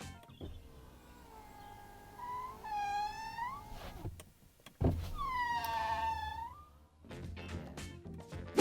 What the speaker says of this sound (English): it makes this noise when you put the window up and down. Listen.